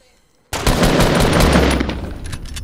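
A gunshot from a video game sniper rifle breaks out after a short silence, followed by a loud sustained burst of rapid gunfire with no speech over it.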